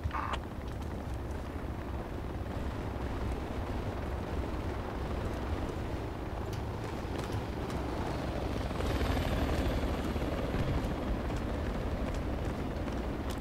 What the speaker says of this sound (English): I think the trans helicopter is just getting hammered by enemy AA.